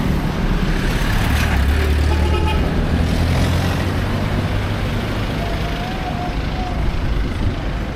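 Busy city road traffic in Cebu rumbles loudly and continuously, with passing cars and engines close by and a faint horn toot or two, occasional voices underneath.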